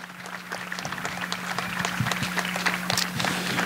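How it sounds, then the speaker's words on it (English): An audience at an outdoor municipal band concert gives a round of applause, a dense steady clapping heard up close that carries on for the whole stretch. "Let's have another round of applause for those folks,"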